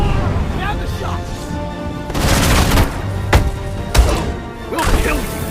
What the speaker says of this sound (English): Now the shots!